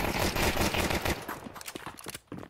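Rapid gunfire in the video game Counter-Strike 2, a burst of loud shots followed by a few more scattered bangs over about two seconds, close and sharp.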